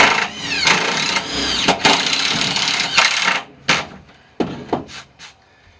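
An Advantex subfloor panel for a van is cut with a power saw, loud and close, a whining cut that stops partway, then a series of sharp knocks and clattering bumps of the panel and tool.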